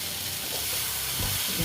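Ghugni mixture frying and being stirred in a pan gives a steady sizzle, with a few soft scraping stir strokes near the end, close and fairly loud.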